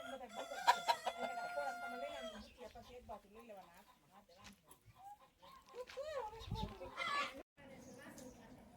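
Roosters cluck and squawk nearby, with a crowing call early on, while people talk over them.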